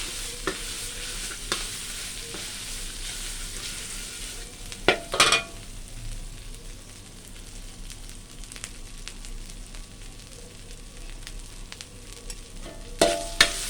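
Bamboo shoots and pork stir-fry with curry paste in a pan, giving a steady close sizzle. Scraping spatula strokes run throughout, with clattering metal knocks around the middle and again at the end.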